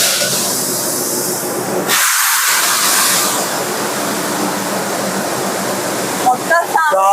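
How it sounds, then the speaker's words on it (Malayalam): Loud steady hiss and rumble of a train, with a brief lull and high squeaky tones near the end. "This is our train."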